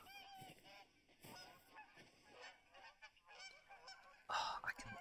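Geese honk repeatedly in the video game TheHunter: Call of the Wild, a cluster of nasal calls at a moderate distance, swelling to a louder burst near the end.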